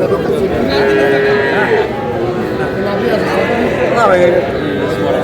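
A young bull calf moos in a couple of long, wavering calls amid a busy background of cattle market crowd chatter.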